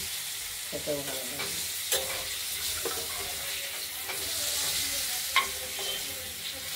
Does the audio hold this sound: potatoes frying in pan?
yes